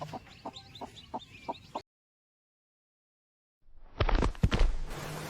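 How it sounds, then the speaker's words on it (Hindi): A chicken clucks in a short rhythmic series, then silence, followed by louder, busier clucking and flapping close by. "मुर्गी सुबह सुबह कुकरू कुकरू बांग लगा के लोगों को जगाती है।"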